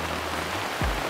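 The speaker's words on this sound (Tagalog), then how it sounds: "Lakas ng ulan." Heavy rain falls on a campsite in the woods during a motocamping trip, a dense, steady hiss close by. A brief deeper thump rises near the end.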